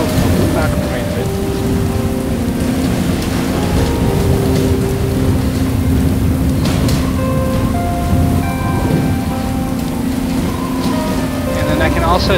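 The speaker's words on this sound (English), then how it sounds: "That's the rain." Steady broadband rain pours across the Unigine Valley benchmark scenery, a dense continuous hiss with a low rumble beneath, while scattered tonal game sounds and faint speech come and go over it.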